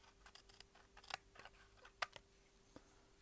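Scissors make a few crisp, quiet snips with short pauses between them while paper is cut at an angle for a scrapbook backpack craft.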